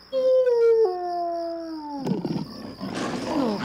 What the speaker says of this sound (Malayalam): അപ്പോഴതാ ദൂരെ നിന്നും കുറുക്കന്മാരുടെ ഓരിയിടൽ.